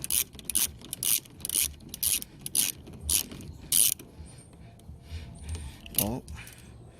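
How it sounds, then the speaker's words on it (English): Ratchet socket wrench loosening a 10mm bolt on an Acura TL side mirror, giving a series of short, sharp clicking bursts in an uneven rhythm, close by, then a few quieter mechanical clicks. "So right now I'm gonna loosen the 10mm."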